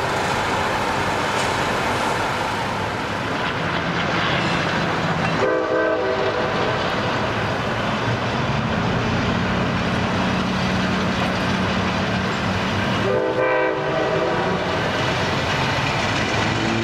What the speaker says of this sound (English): Capital Corridor train number 535 departs the Sacramento Valley station.